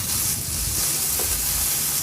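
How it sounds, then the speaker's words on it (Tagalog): Thinly sliced marinated beef hits a hot pan with onions for a beef, broccoli and carrot stir-fry, giving a steady, close, hissing sizzle that carries evenly throughout. "ilagay ko na rin yung binabad nating baka o yung karne ng baka"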